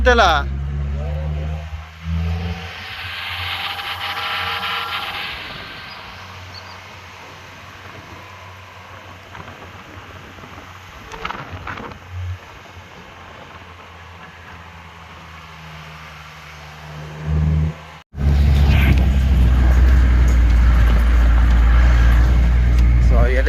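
A vehicle's engine drones steadily with gear changes while it travels a broken, rough rural road, with a sudden louder roar of engine and road noise toward the end.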